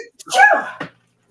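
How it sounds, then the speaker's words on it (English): A single loud, close sneeze with a sharp intake and forceful burst, followed by a brief tail, then quiet. "I'm going to sneeze."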